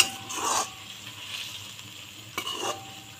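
Hot water poured into a pan of fried fish with oil and turmeric, bursting into a loud hiss that fades into a low simmering sizzle, followed by a second sharp hiss and stir near the end.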